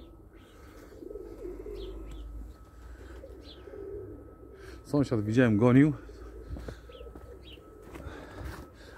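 Racing pigeons in a loft give a burst of deep, rolling coos midway, close and clear above low background murmur, with someone speaking in the clip.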